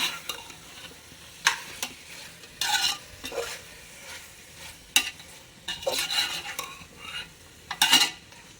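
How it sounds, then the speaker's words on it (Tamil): Mutton biryani masala mixed with yogurt is stirred in a pot over the heat, with steady sizzling and frequent scraping, clinking strokes of a metal spoon against the vessel, close and moderately loud. "இது இந்த மசாலாலாம் நல்லா எண்ணெய் கசிஞ்சு வர அளவுக்கு கிளறி விடுங்க"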